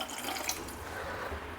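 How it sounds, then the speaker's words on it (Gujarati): About a cup of water poured into a sago and potato mixture in a pressure cooker, a soft, steady trickling splash, faint and close, with no talk. "તો વધારે આપણે 1 કપ જેટલું પાણી ઉમેરશું"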